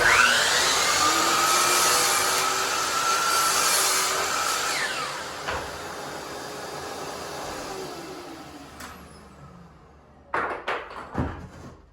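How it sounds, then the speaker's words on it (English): A saw cuts a miter through wood window casing held face to face, a steady loud whine for about nine seconds that winds down, followed by a few sharp knocks near the end. "I'm just going to cut my first miter on this side with them face to face."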